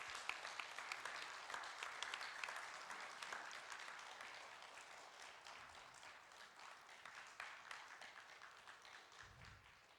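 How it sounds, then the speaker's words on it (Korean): Applause from the audience at a theological seminary graduation ceremony, steady dense clapping that fills the room for several seconds and slowly thins toward the end. "같이 박수로 축하해 주시면 감사하겠습니다."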